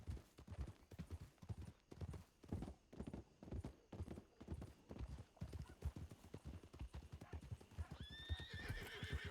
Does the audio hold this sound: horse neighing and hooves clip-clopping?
yes